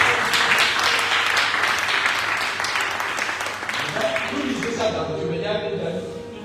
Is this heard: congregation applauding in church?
yes